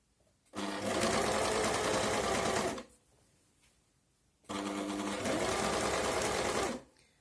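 Sewing machine stitching a blouse, running in two steady bursts of about two and a half seconds each with a quiet pause between, close and loud.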